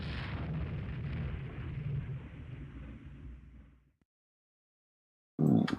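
11-inch naval gun shells strike a Chauncey class cruiser in the video game Rule the Waves 2: a deep, rolling explosive rumble that fades out into silence, followed by another sudden heavy blast.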